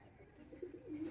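Pigeons kept for sale coo softly in a short, low, burbling phrase that swells toward the end, with no voices.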